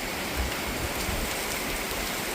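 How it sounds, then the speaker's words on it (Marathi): Heavy first rain of the season in Nagar, Maharashtra, pours steadily, a dense, even hiss with no breaks and no voices. "इतका पाऊस होतोय"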